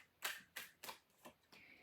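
A tarot deck is shuffled in five quick, crisp bursts of riffling cards, each about a quarter second long and evenly spaced, close and clear with no talk.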